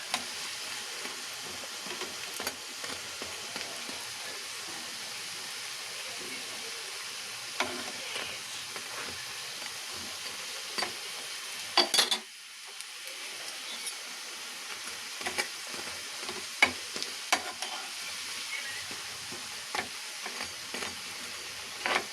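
Lentil fritters with onion and green chili fry in hot oil, a steady close sizzle running throughout with occasional soft stirring scrapes and a brief dip midway.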